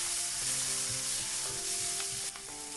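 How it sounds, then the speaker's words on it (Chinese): Tofu dish with chili sauce stir-frying in a hot pan, a steady close sizzle with scraping stir strokes and clinks throughout, no talking. "再把切好的辣椒酱也加进来，继续翻炒，炒出香味"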